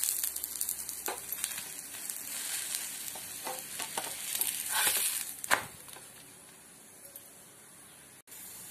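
Paneer paratha cooks in oil on a pan, a close, crackling sizzle that swells while it is flipped, then settles to a quieter hiss near the end.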